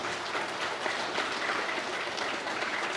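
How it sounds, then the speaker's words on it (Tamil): Audience applause for a children's dance group at a school event, a steady, moderately distant patter of many hands clapping with no talk over it. "அத்தனை குழந்தைகளுக்கும் ஒரு பலத்த கைத்தட்டல் கொடுங்க"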